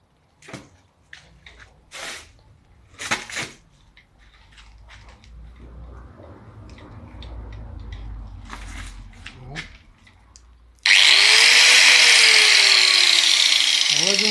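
A loud, harsh angle grinder cutting branches starts abruptly after some quiet talk and scattered knocks, whining steadily and close, its pitch dropping slightly as it bites.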